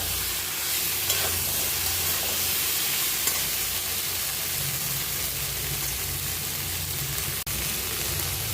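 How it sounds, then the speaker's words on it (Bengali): Vegetables and half-boiled potato, with papaya, fry in a pan for a light fish curry, giving a dense, even sizzle heard up close for several seconds, with faint stirring scrapes and no voices. "এগুলো একটু ভাজা হয়ে গেছে,"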